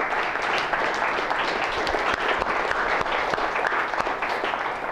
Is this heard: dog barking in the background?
no